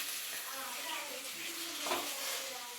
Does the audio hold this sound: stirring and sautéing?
yes